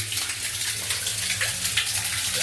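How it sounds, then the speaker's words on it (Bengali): Water from a pump motor pours steadily into a cement tank filter, a continuous broadband splashing gush with a low hum underneath, close and even throughout. "যেখানে জলটা পড়ছে ওইখানটায় কিন্তু আপনার মোটরের জলটা ডাইরেক্ট ওইখানে গিয়ে পড়ছে"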